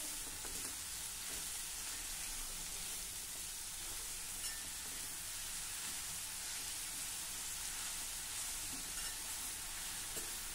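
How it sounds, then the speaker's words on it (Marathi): Spinach sautéed over a medium flame in a pan, a dense, steady sizzle like light rain, with faint stirring scrapes throughout and no speech. "मध्यम आचेवर हा पालक देखील आपण छान परतून घेऊ"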